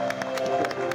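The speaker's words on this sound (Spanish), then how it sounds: "yo quiero pedir un aplauso para el doctor Francisco Díaz" Audience applause in a TV studio, a steady wash of clapping hands with individual claps standing out, continuous and fairly close for the whole second, no voices over it.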